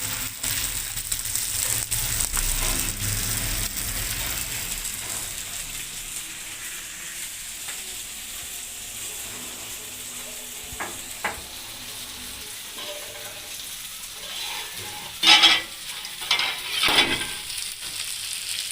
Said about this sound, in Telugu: దాదాపు ఫ్రై అయిపోయిందండి.